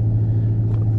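Inside a car while driving, a steady low engine and road drone hums continuously and evenly, with no voices.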